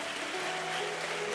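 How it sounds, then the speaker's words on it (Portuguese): A church congregation applauds during a worship service, a steady wash of clapping held at an even level for the whole moment, with a faint sustained musical tone underneath. "você pode aplaudir o Senhor."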